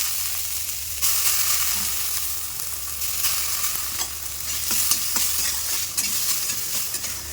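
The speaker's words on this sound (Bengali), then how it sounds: "তো এখানে মেয়ের জন্য আলু ভাজা করছি" Potatoes fry in a pan with a continuous close sizzle, broken by repeated scraping and clinking strokes of a spatula as they are stirred.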